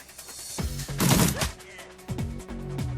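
Gunshots fired at Renraku security in Shadowrun Returns, a short cluster of sharp shots with a loud burst in the middle, then a few quieter cracks.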